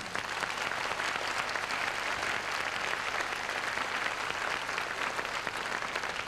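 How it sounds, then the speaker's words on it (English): An audience applauds an orchestra on stage at a concert, dense, even clapping held at a constant level from start to end. "Please give them a big applause."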